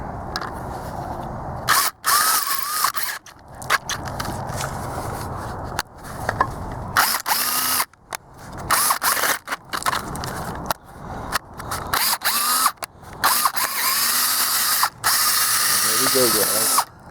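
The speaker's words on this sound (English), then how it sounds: "Let's see if we can drill it the rest of the way." A power drill bores out a broken tap in a metal workpiece, running in repeated loud bursts with short stops between them, while someone talks in the pauses.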